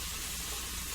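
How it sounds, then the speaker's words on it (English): Bacon-wrapped meat sears in a very hot Teflon pan, giving a steady, dense sizzle of broadband hiss that stays constant and close throughout, with no talking. "That sizzle sound, so awesome!"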